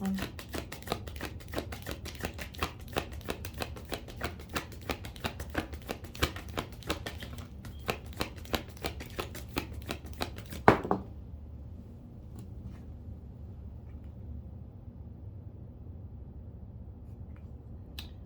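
Tarot cards are shuffled and drawn close by in a rapid run of crisp riffling clicks for about ten seconds, ending with a sharp snap and then near silence.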